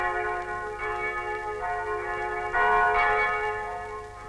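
Church bells of Cuu The church at Phu Cam in Hue ring out in slow repeated strikes, their rich resonant tones overlapping and swelling loud, with no voices.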